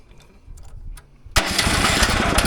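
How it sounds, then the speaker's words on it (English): A Woodland Mills HM130Max sawmill engine turning over on its electric starter, with a brief quiet cranking rattle before it abruptly catches and settles into a loud, steady close-up running roar. "Love that electric start."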